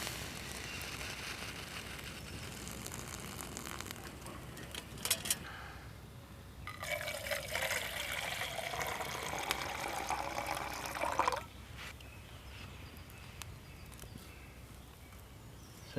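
Boiling water poured off a pot of lesser celandine outdoors, a faint splashing, gurgling pour that swells in the middle for several seconds and then tapers off.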